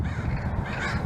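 A large flock of crows caws from about thirty feet away, many harsh overlapping calls forming a dense, continuous clamor with no pauses.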